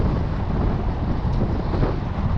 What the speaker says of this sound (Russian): Ветер, ветер.